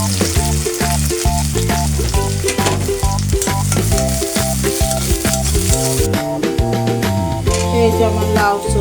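Sliced onions and green chilies sizzle in a pan for a stir-fried bottle gourd peel and egg dish. A constant bright hiss sits under loud melodic background music, and the sizzle thins out in the final seconds.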